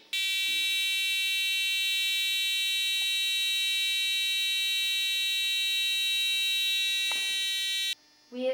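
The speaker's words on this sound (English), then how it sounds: "We have used a coat hanger, wires, a buzzer and a battery." Battery-powered buzzer on a homemade steady hand tester built from a coat hanger and wires drones steadily and loudly for about eight seconds, a rich harmonic tone that cuts off abruptly near the end.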